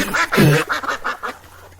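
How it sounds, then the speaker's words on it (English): Ducks quacking close by, a quick run of several loud, nasal calls, the first ones strongest, followed by softer quacks trailing off against a low background hum. "Ducks?"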